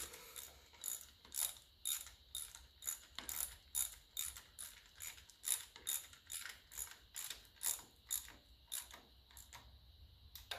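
Wrench or ratchet work on bolts of a 1954 Ferguson 20 TEF diesel tractor: steady rhythmic metallic clicking and ratcheting strokes repeat throughout, close and moderately loud, with no talking.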